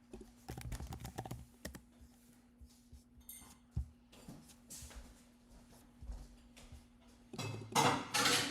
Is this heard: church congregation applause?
no